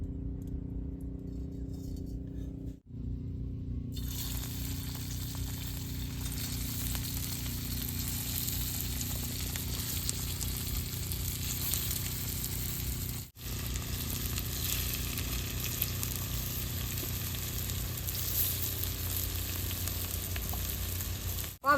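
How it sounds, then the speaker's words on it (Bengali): Raw jackfruit fritters fry in hot oil in a wok, a steady, close sizzle that holds evenly for about twenty seconds, with brief dips and faint clinks from stirring. "তাহলে এখন বড়া দিয়ে আমি ভাইজে নেব।"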